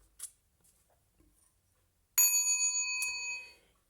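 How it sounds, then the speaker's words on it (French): A small meditation gong is struck once, giving a bright metallic ring with clear sustained overtones that fades over about a second and a half, after a few faint handling taps. "mon petit gong qui est là, je vous le montre"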